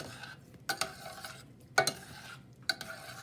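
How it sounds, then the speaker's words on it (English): A spoon stirs cheeseburger soup ingredients and ground pepper together in a pot, making three separate scraping clatters over a quiet simmering background. "So now we want to mix all that together well."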